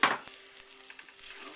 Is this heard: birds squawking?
no